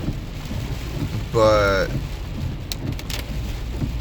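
Steady rain washes over a car driving to work, with spray hiss from traffic ahead; a brief voice rises over the even wash near the middle.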